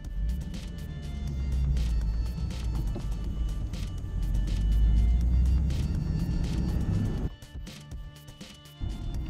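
A 2017 Nissan 370Z Roadster Touring Sport drives through Miami streets with a steady, close engine and road rumble that swells midway, then drops off suddenly near the end, with traffic noise around it.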